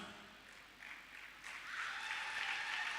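A church congregation claps during a sermon, the applause soft and distant at first, then swelling into fuller, sustained clapping.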